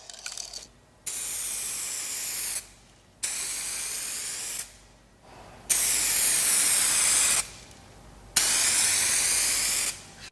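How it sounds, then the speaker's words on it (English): Four long bursts of hissing spray from a spray gun applying 2K clear coat to car bodywork, each a couple of seconds, separated by short pauses; close and steady. "you're spraying 2K clear coat"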